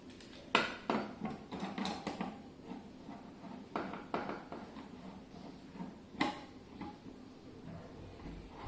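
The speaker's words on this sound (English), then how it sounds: "Now using a screwdriver, I will tighten this onto the TV." A screwdriver tightens a screw through a bracket onto a TV with a series of close, sharp metallic clicks and taps in irregular bursts, some louder knocks among them, against a quiet room.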